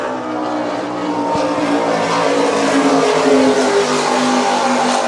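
Super Cat racing powerboats roar at full throttle during the Key West World Championships race, a loud, continuous engine drone that holds steady for the whole stretch with no pauses.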